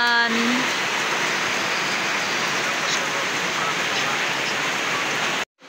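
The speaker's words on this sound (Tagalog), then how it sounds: "Ulan na naman." Heavy afternoon rain pours steadily in Balamban, a dense, continuous wash of noise close by that holds evenly for several seconds before cutting off abruptly near the end.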